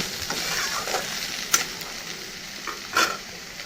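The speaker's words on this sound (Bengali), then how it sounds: "সোয়াবিনটাকে ভালো করে পেস্টের মধ্যে সাঁতলিয়ে নেব" Soybean chunks sautéing in a spice paste in a pan, giving a steady soft sizzle with a few sharp spoon-against-pan knocks as they are stirred, close by with no talking.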